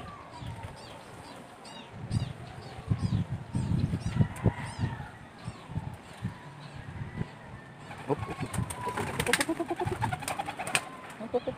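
Racing pigeons of the blue bar pattern cooing and fluttering at a loft, with a dense mix of bird calls and wing flaps throughout and brief rustling bursts in the second half.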